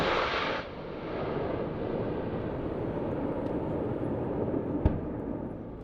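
Military helicopters during joint Russian-Abkhaz exercises, a steady loud rotor and engine roar that holds for the whole stretch, with one sharp bang near the end.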